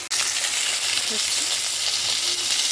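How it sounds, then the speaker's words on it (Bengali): Fish frying in a pan gives a loud, steady hiss and sizzle throughout, with a brief drop at the very start. "আর এখানে কিছু মাছ ভাজা হয়ে গেছে অলরেডি"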